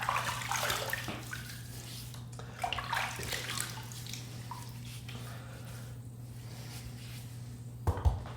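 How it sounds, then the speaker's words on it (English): Water being splashed and wiped onto a head before shaving, with soft wet splashes and drips over a steady low hum, fairly close and quiet, ending with a couple of small knocks. "Let me get this little bit of water that I have here and just put that there, and let me wet the head"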